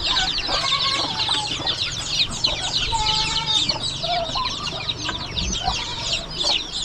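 Farmyard chickens cluck steadily in the foreground of a rural Philippine smallholding, with scattered short calls from several hens and a few chirps, continuous throughout with no talking.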